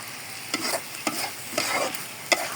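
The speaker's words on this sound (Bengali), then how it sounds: "আলু দিয়ে পালং শাক ভাজি করছি" Spinach fries with potatoes and bean seeds in a pan, a steady sizzle broken by four or so scraping stirring strokes, close and moderately loud with no talking.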